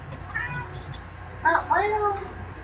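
A cat meows twice nearby, a short call followed by a longer, louder drawn-out meow, over a faint background hum.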